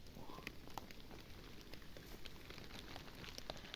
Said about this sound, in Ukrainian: Дощ йде потрішки, поки невеличкий.